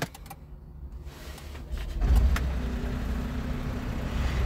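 A 2011 Smart Fortwo Passion 1.0 MHD automatic convertible with 49k miles starts up: quiet cabin hum, then the engine catches into a steady, close low rumble that continues at idle.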